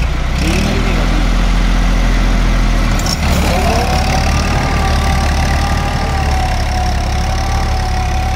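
A Massey 5245 46 HP tractor drives a Deluxe rotary tiller, its engine a loud, steady close drone throughout, with a short load change near the three-second mark.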